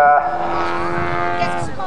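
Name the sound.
model aircraft engine during aerobatic flight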